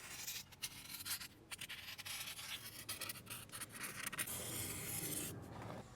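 A marker tip scratches and rubs across foam as it traces a circle guided by nylon string tied to a central screw, a quiet uneven scraping in short strokes with no talk.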